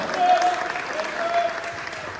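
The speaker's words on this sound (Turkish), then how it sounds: "Alkışlar." Audience at the Bodrum Open award ceremony applauds briefly, a short soft patter of clapping over a steady background hum with a faint voice mixed in.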